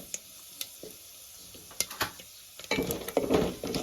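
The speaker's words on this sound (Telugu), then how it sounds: "పోపు ఎప్పుడు కూడా లో ఫ్లేమ్లో లో ఫ్లేమ్లోనే మరి వేపాలి" Quiet, scattered crackles and pops at first, then a louder, denser sizzle of tempering spices frying in hot oil over a low flame, with faint clicks of stirring.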